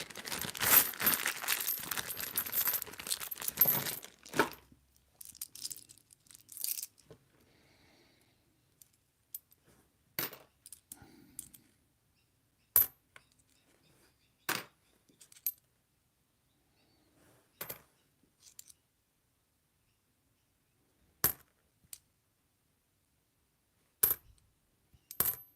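New Zealand 2-cent coins drop one at a time onto a hard surface during a coin search: a dense burst of clinking and rattling at first, then a sparse, irregular series of sharp, isolated metallic clicks with silence between them.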